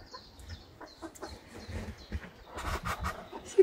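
Newly hatched Easter ducklings peep in a series of short, high chirps close by, with quiet rustling and soft bumps, growing busier and louder toward the end.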